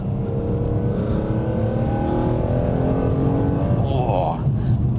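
BMW E46 M3 engine revving up steadily as the car pulls away, a smooth rising mechanical wail heard close and loud, with a brief higher swoop near the end.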